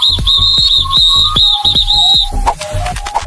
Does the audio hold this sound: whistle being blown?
yes